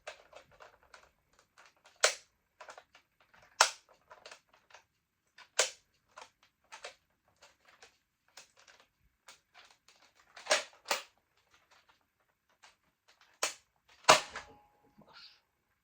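Sharp plastic clicks from a toy pistol come in scattered single snaps and quick pairs, close and crisp against near silence.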